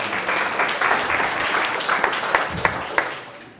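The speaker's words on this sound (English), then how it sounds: "Give those people a round of applause." A room of seminar attendees applauds a few fellow audience members in a short round, the claps thinning out into a handful of distinct loud smacks as it dies down.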